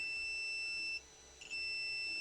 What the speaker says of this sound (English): And I can select a beep